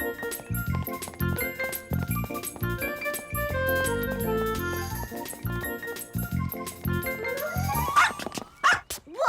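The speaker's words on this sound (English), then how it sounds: "Silly dog." Cartoon dog barking in an animated children's episode, a few sharp yips and barks near the end over busy background music and jingling effects.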